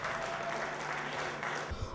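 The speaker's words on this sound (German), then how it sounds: "Euer Applaus nochmal" Audience applause at a children's culture festival event, a steady wash of clapping from a crowd, moderately distant and even, ending abruptly.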